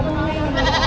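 A goat bleats briefly at a livestock market, a single short wavering call over a busy, noisy background of crowd chatter.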